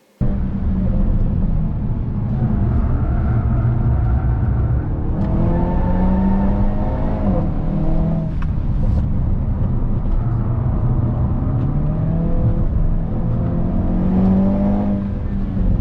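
A race car accelerates and shifts through turn 8 at Winton, heard from inside the cockpit: a loud, continuous engine whine rising and falling in pitch through several gear changes, with no talking.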